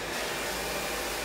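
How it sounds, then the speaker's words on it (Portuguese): A Type Fox hair dryer runs continuously in a salon during a short haircut, a steady loud whooshing roar of blown air with no pauses. "Eu vou botar o secador."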